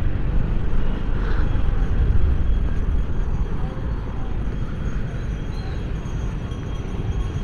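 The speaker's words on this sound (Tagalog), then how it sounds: "traffic" Steady street traffic noise, a broad continuous low rumble of passing vehicles heard close by and fairly loud, without clear breaks, with faint voices underneath.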